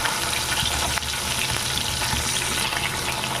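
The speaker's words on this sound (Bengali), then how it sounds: "বাকি মাছগুলো ভেজে দেবো। আমি এই মাছগুলো ভেজে তুলে নেব।" Pieces of katla fish fry in hot oil in a pan, a loud continuous crackling sizzle with occasional clinks of stirring, close and without talk.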